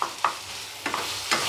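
Spice mixture for kofta curry sautéing in a pan, with three short bursts of stirring and sizzle standing out over a low steady fry, close and moderately loud.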